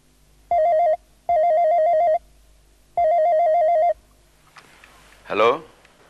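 Landline telephone ringing on a call: three steady electronic ring bursts with pauses between, loud and close, followed by a brief rustle and clunk as the receiver is picked up.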